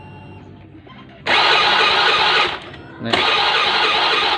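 A Honda Beat F1 scooter is cranked on its electric starter with the spark plug cable pulled off: two loud, close, buzzing starter bursts separated by a short pause, after a brief spoken word at the start.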